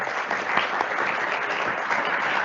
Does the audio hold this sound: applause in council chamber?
yes